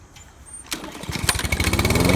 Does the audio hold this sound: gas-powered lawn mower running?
yes